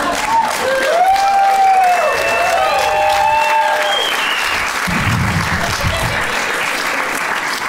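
Loud applause from a comedy club audience fills the room steadily, with light cheering and whoops rising above the clapping.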